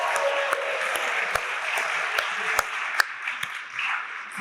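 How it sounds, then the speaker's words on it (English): A graduation audience applauds Los Angeles graduates with a steady roar of many hands clapping, a few sharper individual claps standing out over the crowd, moderately loud throughout. "I just want to give a big round of applause for Los Angeles graduates."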